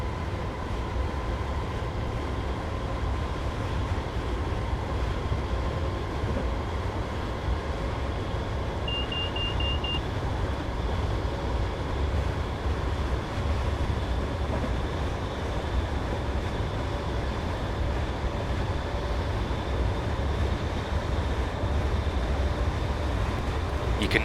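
Class 320 electric train accelerating in Train Simulator 2015, a steady loud cab rumble with a faint electric whine and rail noise, unchanging and continuous with no talking.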